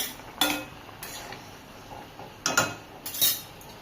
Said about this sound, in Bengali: এবার আমি ঢাকনাটা উঠিয়ে দিলাম।